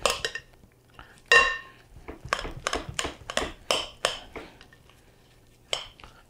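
Spoon stirring celeriac remoulade salad, dressed with Dijon mustard, salt and pepper, in a bowl: a run of close scraping and clinking strokes against the bowl, fairly steady and moderately loud, with no talk.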